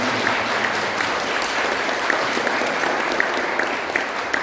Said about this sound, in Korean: 한번 환영의 박수.